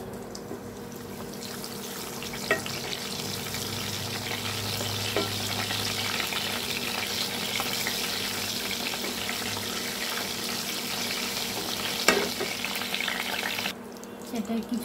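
Curry leaves and spices frying in hot oil for a Kerala-style mutton curry, with a steady, close sizzle throughout, occasional stirring scrapes and a sharp utensil knock near the end.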